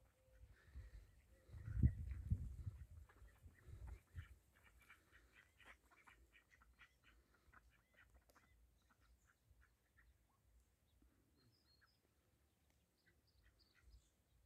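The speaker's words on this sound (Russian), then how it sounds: "Также вот имеются дикая утка." Wild ducks at a rural poultry yard give a burst of loud, close quacking and honking calls over the first few seconds, then fade to scattered faint calls and quiet background.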